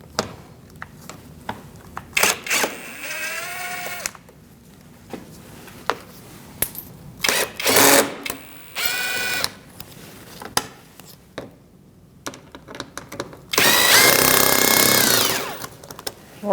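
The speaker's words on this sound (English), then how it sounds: "We're going to remove these bolts on this side with a 7mm socket." Ratchet and socket work on the engine of a 2016-2019 Chevrolet Cruze 1.4L, a 7mm socket loosening thermostat housing bolts, giving bursts of close, loud clicking and rattling separated by short pauses, with a long sustained burst near the end.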